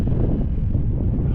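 Steady, loud rumbling wind buffeting the microphone outdoors during 18 mph gusts, heard on its own with no break.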